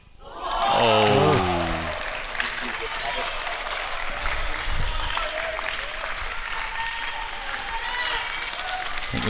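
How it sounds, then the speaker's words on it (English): Monash University supporters at a 2018 Varsity Challenge match against Melbourne University erupt with a loud shouted cheer. Steady applause and crowd noise continue under it, rising in a few swells. "Supporters from Monash finding their voice."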